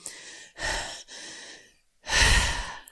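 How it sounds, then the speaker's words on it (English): Heavy, loud breathing close to the microphone: a few long, rasping inhales and exhales with short pauses between them. "Your heavy breathing."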